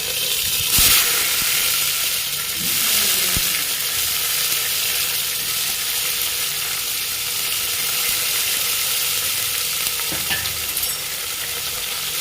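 Curry leaves and onion with green chillies sauté in a pan, giving a steady, close sizzle with stirring scrapes throughout and a couple of sharper clatters, no talking.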